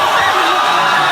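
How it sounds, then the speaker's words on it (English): A TV studio audience at a talk show chants and jeers after a fight between two women, a loud continuous mass of voices rising and falling together. "As the crowd chants some nasties"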